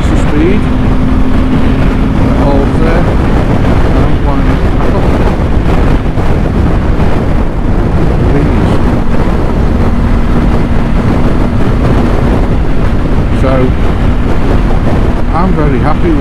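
Motorcycle cruising at speed with a throttle lock set, loud buffeting wind noise over a steady engine drone, continuous throughout with a rider's voice talking underneath.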